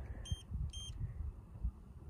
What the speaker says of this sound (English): An alarm starts going off.